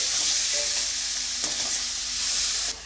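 Vegetables for paneer fried rice fry steadily on a medium flame, giving a dense, continuous sizzle with a few soft stirring scrapes and no voices.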